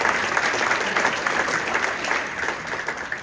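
An audience at a hall of fame induction breaks into loud, dense applause, sustained and even across the whole moment, filling the room with many hands clapping at once.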